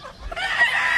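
Rooster from a Jap McRae Robello line on a Hawaii farm, clucking and breaking into a crow, one bird close and fairly loud with no talking.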